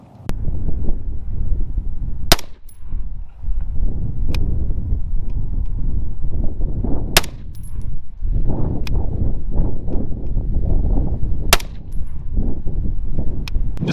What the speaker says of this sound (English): Despite the wind that we've got going on out here